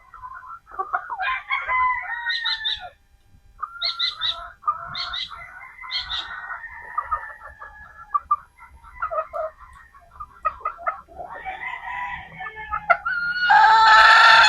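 Pullets cluck and crow inside a poultry farm, with close, loud calls that come in bursts, some bright crowing phrases, and overlapping birds that get louder toward the end.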